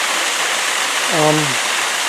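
Jungle waterfall rushing in a steady loud broadband roar throughout, with a brief voiced sound partway through.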